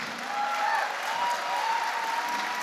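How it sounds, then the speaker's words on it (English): Crowd at a CFL Ottawa team name and logo unveiling applauding as a fire department marching band arrives, steady dense clapping with faint cheering voices throughout. "Let's have a round of applause"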